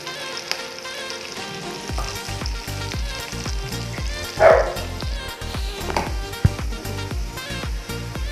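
Dried bay leaves and onions sizzling steadily in hot oil in a pan for meat curry, with a continuous loud frying crackle and a few scraping stir sounds, no talking.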